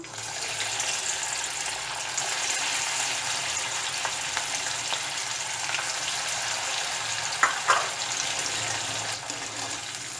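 Poha snack balls fry in hot oil with a steady, dense sizzle and bubbling throughout, plus a couple of brief clinks partway through.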